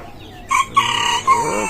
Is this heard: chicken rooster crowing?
yes